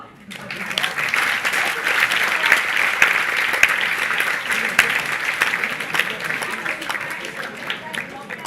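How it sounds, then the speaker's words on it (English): Audience applause at a conference hall, steady full clapping from many hands that swells and holds for several seconds before easing slightly. "We should give them a round of applause."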